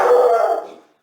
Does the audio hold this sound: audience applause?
no